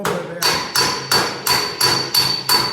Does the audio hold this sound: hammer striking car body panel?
yes